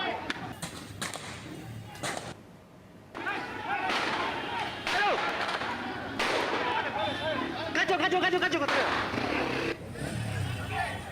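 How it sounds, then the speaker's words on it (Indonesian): Sharp cracking gunshots and popping tear gas launches burst out repeatedly during a clash between protesters and police in Papua, Indonesia, amid a noisy crowd with shouting voices, some blasts louder and closer than others. "terdengar bunyi tembakan dan lemparan gas air mata."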